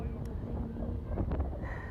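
Wind buffeting a microphone at a beach, a constant low rumbling roar with soft bumps, while a voice is faintly heard beneath it.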